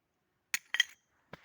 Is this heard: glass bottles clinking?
yes